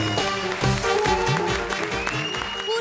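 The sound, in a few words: loud applause for Himesh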